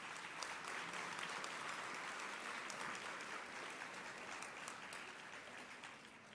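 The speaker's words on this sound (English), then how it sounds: "we should give him a round of applause for that." A conference audience bursts into sustained applause for a city mayor, dense clapping from many hands that stays full and even, easing slightly only at the very end.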